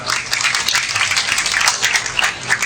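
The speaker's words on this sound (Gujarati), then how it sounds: "તાળીઓથી વધાવી જાઓ" Audience at a Bhagavat katha gathering applauding, a steady close burst of many hands clapping throughout.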